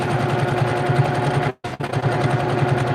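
Brother PQ1500sl domestic sewing machine running fast during free motion quilting, a loud, steady, rapid needle rattle and motor hum that stops for a split second midway and then resumes.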